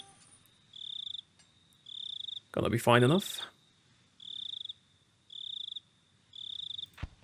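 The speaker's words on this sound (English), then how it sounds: "We'll get behind the howling and the chirping of crickets." Cricket chirps in the SpellForce: Order of Dawn video game, steady high pulsing bursts repeating about every second, broken midway by a short loud rustle while someone speaks briefly.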